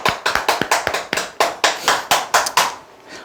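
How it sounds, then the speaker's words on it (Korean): An audience at a sales seminar claps about a dozen crisp, evenly spaced times in a close, punchy rhythm before the sound trails off into a quiet room. "박수 한번 치시죠"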